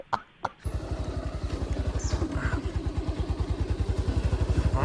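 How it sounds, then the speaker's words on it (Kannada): A motorcycle rides off-road over rough ground, its engine throbbing steadily and close by after a brief quiet start, with a rhythmic pulsing beat that holds throughout. "ಆಫ್ ರೋಡ್ಗೆ ಇವಾಗ ಇಳಿಸ್ತೀನಿ ನಮ್ಮ ಬೈಕ್ನ"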